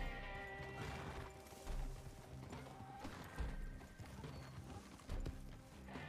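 Horses race in a Red Dead roleplay game, their hooves making faint, irregular clip-clop thuds with occasional louder knocks and clatter underneath a busy mix of background sound.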